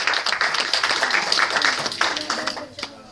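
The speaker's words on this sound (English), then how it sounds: "Give the Lord a big hand clap." Church congregation clapping during a Sunday morning service, a brief burst of many hands at moderate level, thinning out after a couple of seconds with faint voices underneath.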